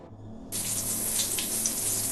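Shower water running in a horror survival video game, a steady broadband spray that switches on abruptly after a brief quiet moment and continues at an even, close, moderately loud level.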